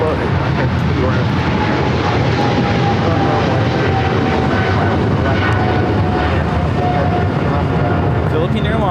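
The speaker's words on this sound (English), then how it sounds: "Philippine Airlines 113 taking off to Manila on the 777-300ER" A Philippine Airlines Boeing 777-300ER takes off at LAX, its jet engines a loud, steady broadband roar filling the whole stretch, with a faint tonal whine riding on top.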